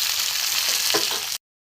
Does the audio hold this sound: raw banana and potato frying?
yes